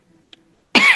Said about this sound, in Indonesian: mohon maaf ya teman-teman ini kalau ada suara batuk-batuk dikit gitu ya